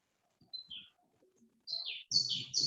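Small birds give a few short, high chirps and tweets in the background, faint and sparse at first, then quicker and busier toward the end.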